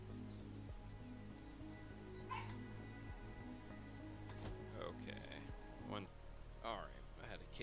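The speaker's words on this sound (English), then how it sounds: "A barking dog." A dog barks in the post-apocalyptic video game Endzone, with several short yips and whimpers over a steady background of game music and hum.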